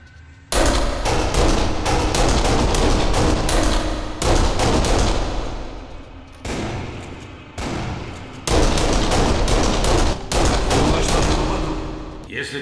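Heavy gunfire in Kane & Lynch: Dead Men, loud sustained bursts of automatic weapons fire with thudding shots, broken by a few short pauses and running almost the whole time.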